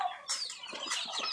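Chickens cluck on an African poultry farm where turkeys and guinea fowl are also kept, with several overlapping clucks and squawks at close range, plus a brief flutter of wings.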